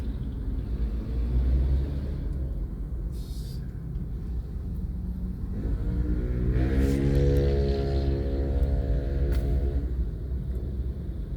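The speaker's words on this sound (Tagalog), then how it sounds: "Bagamat puno, maraming sasakyan pero mabilis pa yung daloy mga drive." Cabin rumble while driving in morning car traffic on C5 Avenue toward McKinley Hills, a steady low engine drone swelling as the car accelerates midway, with a brief passing whoosh.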